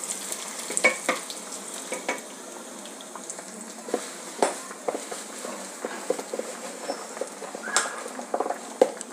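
Halved green chillies, five or six of them, sizzle and crackle in a hot pan for a moong dal sambar while a spoon stirs them, giving a steady fry with scattered sharp scraping clicks.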